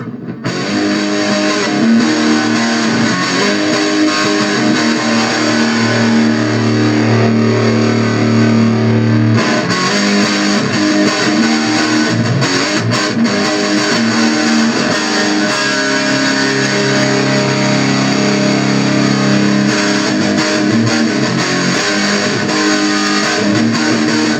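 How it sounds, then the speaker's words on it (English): Heavily distorted electric guitar played through a Beta Aivin BM6 portable amplifier with added gain, continuous and loud, with sustained gritty chords and a steady hiss underneath, no voices. "It's a pretty nice distortion,"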